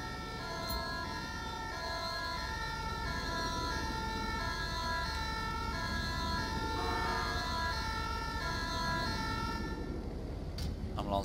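An ambulance siren in the video game GTA 5 with the LSPDFR mod wails in a steady, repeating pattern, loud and close, running for most of the stretch before cutting off near the end.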